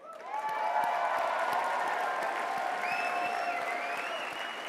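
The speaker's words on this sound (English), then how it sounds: "Give yourself a round of applause." Sustained applause from a large conference audience at CPAC 2019, a dense steady wash of clapping filling the hall at full strength, with faint cheering and a few whistles rising near the end.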